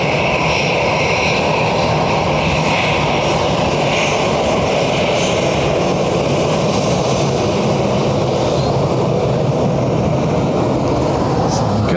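A Ryanair airliner from Rome passes at Dublin Airport, giving a loud, steady engine roar with broadband wind-like rush throughout, under a faint voice.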